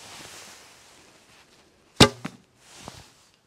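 A heavy arrow of about 470 grain is loosed from a Turkish-style bamboo bow of 38 lb at 28 inches during a speed test, giving one sharp release snap with a brief rattle after it, close and clear over quiet room tone.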